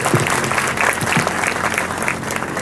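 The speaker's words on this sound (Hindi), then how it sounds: "और एक बार तालियों के साथ इनका जोरदार स्वागत किया जाए" Steady, dense applause from an audience at an Independence Day (15 August) celebration, a continuous wash of clapping at even loudness throughout.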